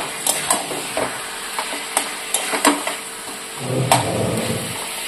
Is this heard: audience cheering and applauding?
no